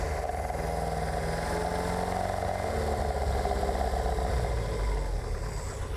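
A Lotus Esprit S3 four-cylinder engine runs steadily on stale fuel at close range, a continuous mid-pitched idle with a slight uneven pulse and no voices over it.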